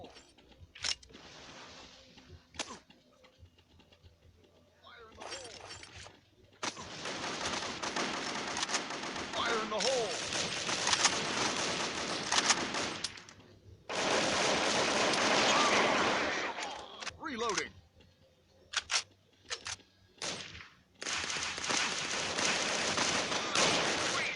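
Thompson submachine gun fire in the video game Crisis Action rattles in long sustained bursts separated by quiet gaps and shorter clusters of shots, loud and close, with voices occasionally between.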